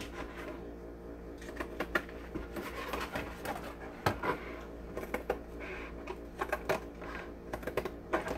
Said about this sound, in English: I'm actually going to come through and cut out the strips